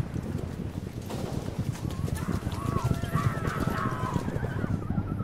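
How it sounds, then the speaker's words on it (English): Galloping horse hooves pound in a fast, continuous clip-clop rhythm for an animated Bible story about Pharaoh's army, with whinnies and a busy background texture throughout. "They could hear the sound of galloping hooves"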